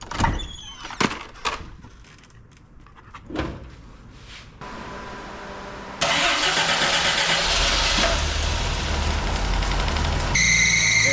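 Jeep CJ7 engine cranking and catching, then running loud and close, rising as throttle is applied, with a high squeal appearing near the end; earlier a door and handling knocks are heard, no talking.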